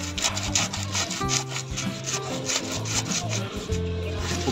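A dull hand saw rasps back and forth through water jasmine bonsai wood in quick, steady strokes, close and loud with a woody grinding texture.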